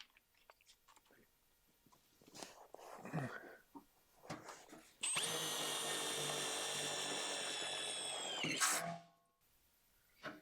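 A power drill bores holes for concrete anchors, running as one loud steady burst of about four seconds that ends in a brief high whine, with scattered scraping and handling knocks before and after.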